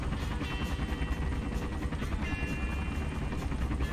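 A helicopter in the video game Call of Duty: Black Ops, in a Vietnam mission, gives off a steady, loud rotor chop with a constant engine whine, filling the whole stretch with no pause.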